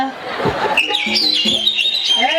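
A voice imitates a sparrow's chirp with a run of short, high, bright tweets, close and clear over a murmur of people in a room.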